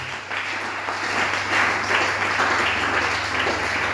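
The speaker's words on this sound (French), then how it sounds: "On acclame le Seigneur." A church congregation applauding together in worship, steady sustained clapping over a low hum with no talking.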